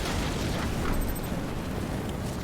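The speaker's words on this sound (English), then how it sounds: "the laser barrage going to be coming down on the turret at the back" Laser barrage slamming into a turret at the back of a base during a 2v2 video game tournament match: a dense, continuous explosive roar with crackling bursts, loud and unbroken for about two seconds.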